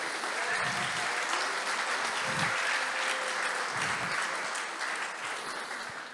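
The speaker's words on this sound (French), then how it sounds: "Donc je vais vous demander de les applaudir, s'il vous plaît." Sustained audience applause fills a hall at an evening pitch and networking event at the Palais Brongniart in Paris, steady and dense throughout before easing slightly toward the end, with no voices over it.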